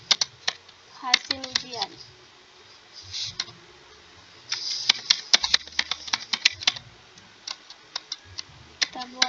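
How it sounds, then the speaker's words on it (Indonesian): Fingers typing on a computer keyboard while building a spreadsheet table, with close, rapid clicky keystrokes in uneven bursts, partly under someone speaking Indonesian. "Kita ketik lagi judulnya seperti laporan"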